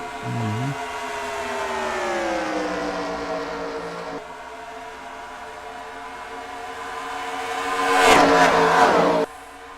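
Racing trucks at Michigan circling in a tight line, their engines blending into a loud sustained drone whose pitch rises and falls as they sweep past, with a sharper, louder pass near the end that cuts off abruptly.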